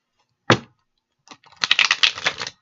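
A single sharp snap, then a quick riffle of tarot cards being shuffled, close and crisp in near silence.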